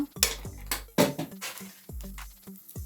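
A metal tawa pan is handled and set on the stove with a little oil, ready for frying radish. Several close clanks and knocks ring out, each leaving a short metallic ring, with no talking.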